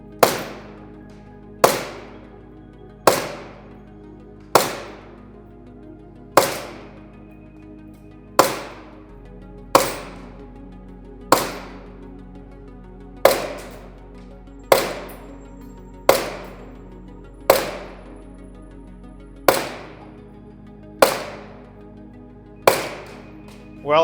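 Gas-powered airsoft pistol shot repeatedly from magazines on a cold December day in Pennsylvania, about fifteen sharp, loud pops at a steady, even rhythm, each with a short ringing decay, no voices.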